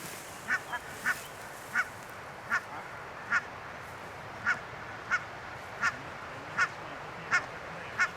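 Barnacle geese parents leading a brood of lesser white-fronted goslings give about a dozen short honking calls at a steady, spaced rhythm, moderately near over a soft outdoor hiss.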